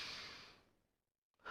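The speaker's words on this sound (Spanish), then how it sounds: "inspiramos y expiramos" A single long, soft exhale during a meditation breathing exercise, close and quiet, fading into silence before a faint new intake of breath begins.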